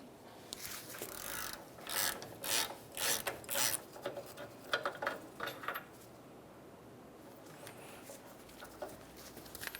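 A ratchet works loose the 16mm brake caliper bracket bolts on a 1994-2002 Dodge Ram 2500, a run of quick clicking and grinding bursts close by before it trails off into quiet.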